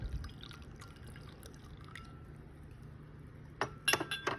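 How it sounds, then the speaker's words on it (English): Honey bug tea poured back and forth between containers, heard as a steady faint trickle with a burst of louder clinks and splashes near the end. "All you have to do is just pour it, swap it back and forth."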